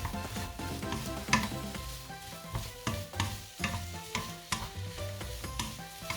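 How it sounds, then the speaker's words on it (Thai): Pineapple fried rice is stirred in a hot pan, giving a soft, continuous sizzle broken by rhythmic scraping strokes, with no talking. "ทีนี้เราก็คนต่อไปเลยครับ"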